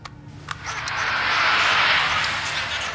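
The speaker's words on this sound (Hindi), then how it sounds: "एक एसयूवी टाइप हेवी इंजन की आवाज है जो" A heavy SUV-type engine recorded on tape passes at about 60 km/h, a broad rushing whoosh that swells to a peak midway and then eases off, with faint clicks at the start.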